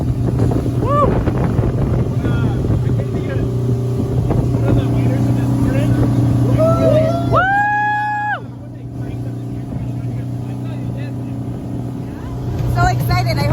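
A motorboat engine drones steadily throughout off Punta Islita, Costa Rica, with wind buffeting the microphone and people talking and cheering excitedly over the noise.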